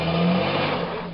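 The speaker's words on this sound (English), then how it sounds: "Climbing a dirt hill with a Firebird." A Pontiac Firebird's engine revs hard as the car climbs a dirt hill off-road, a loud, close, sustained roar over its short span.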